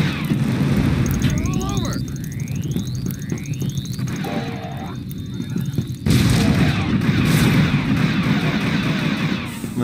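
Ship turrets firing in Star Wars Battlefront II, with a dense, loud roar of space battle and repeated blaster shots and sweeping laser tones, continuous and near.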